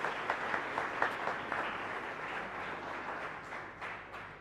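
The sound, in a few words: congregation applause at Mass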